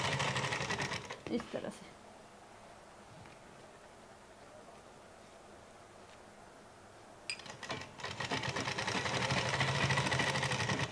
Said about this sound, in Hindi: और ऐसे बराबर से बिठाते हुए सिल लेंगे।